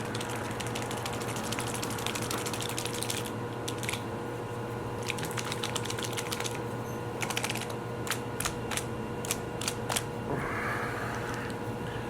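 A bottle of F Aiptasia Killer aquarium treatment is shaken, producing bursts of quick clicking rattles over a steady low background hum, with no voices.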